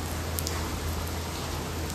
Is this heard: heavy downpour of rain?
yes